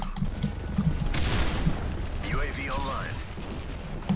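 Turret gunfire and explosions in Call of Duty Modern Warfare 3 make rapid, dense bursts of shots and heavy booms that roll on without a break, loud and close, with chatter in the game mix.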